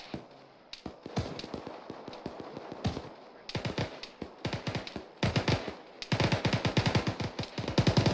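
Bursts of automatic gunfire crack out during a military field training exercise, rapid volleys of sharp shots in irregular clusters, some nearer and louder, with brief pauses between strings of fire.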